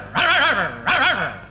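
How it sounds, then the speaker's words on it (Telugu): A dog barks twice in quick succession, each a sharp, loud bark with a yelping edge, close by and with no one speaking. "ఏంటే కుక్క అట్టా సొస్తున్నావు?"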